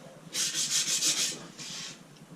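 Wet and dry paper sanding layered paint off a Lambretta GP 125 toolbox, a series of quick rhythmic rubbing strokes close by, then a pause and one longer stroke.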